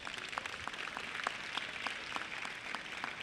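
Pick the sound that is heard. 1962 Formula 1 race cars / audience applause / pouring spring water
audience applause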